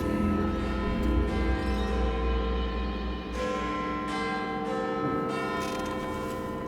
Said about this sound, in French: Ah, la fameuse cloche.